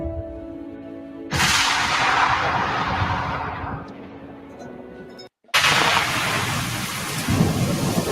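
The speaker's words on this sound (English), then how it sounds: "Storm is coming." A thunderstorm with loud rolling thunder over steady rain, dense and close, cutting out for a brief moment before surging back just as heavy.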